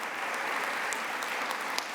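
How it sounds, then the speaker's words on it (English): Steady audience applause at a Let's Move Active Schools event with the First Lady, a dense wash of many hands clapping continuously at moderate level throughout. "a round of applause"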